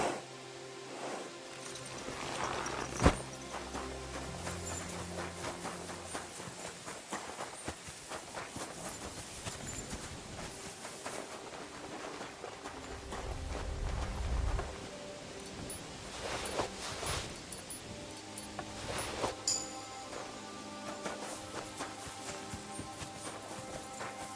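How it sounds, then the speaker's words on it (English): Horse hooves clip-clop steadily as a rider travels on horseback in Kingdom Come Deliverance 2, a rhythmic, moderately close patter of footfalls mixed with music-like tones and occasional louder thumps. "Pebbles is the best horse in the game. You just have to ride her for a long time"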